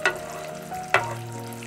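Hot oil sizzles steadily in a pan as sauce for fried tofu is poured and stirred, with two sharp clatters of a utensil against the pan.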